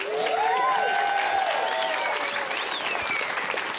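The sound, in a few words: audience applause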